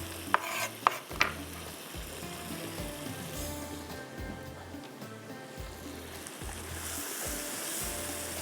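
Chopped dill leaves fry and are stirred on high flame for a green prawn masala, with a continuous close sizzle under scraping stirs and a few sharp utensil clicks at the start.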